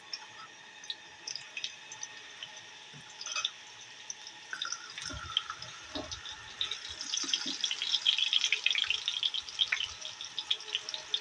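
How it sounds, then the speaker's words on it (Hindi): Eggplant slices lowered into hot oil in a pan, sizzling and spitting softly, with the frying hiss swelling louder and denser over the final seconds. "अब इसके अंदर हम ये अपने बैंगन इस पर डालेंगे।"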